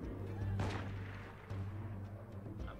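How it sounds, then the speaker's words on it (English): Gunfire in the video game FIN Unity, a couple of booming low shots in quick succession over a dense game soundscape, fairly quiet and brief. "I'm hoping they're shooting at somebody else."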